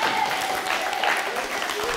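Applause fills a school slam poetry session, an even, steady patter of many hands clapping from a small audience, close and continuous throughout.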